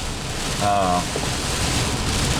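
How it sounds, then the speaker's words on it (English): Steady rain from a storm around Franklinville hisses across a broad band, with a soft wind rush and a brief louder swell just before the middle. "we're up in Franklinville and it's still storming"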